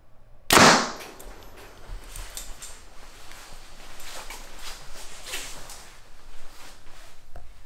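A single sharp arrow release from a Mathews V3X 33 compound bow, shot through paper, lands as one loud close snap near the start, followed by quieter ambient noise and faint rustling.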